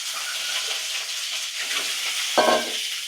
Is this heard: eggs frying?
yes